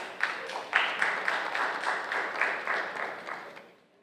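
An audience at an awards event applauding a woman coming up to collect an award, a moderate spell of clapping with a few sharper individual claps that fades out near the end.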